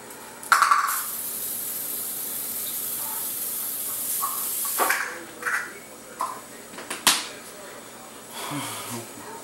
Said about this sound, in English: Now you want to spray the griddle with non-stick cooking spray.